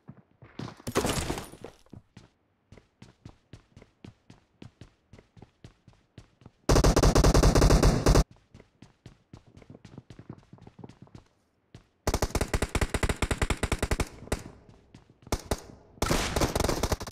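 Gunfire from the mobile shooter BGMI in a team deathmatch: rapid bursts of automatic fire and single shots, with footsteps in between, loud and close throughout.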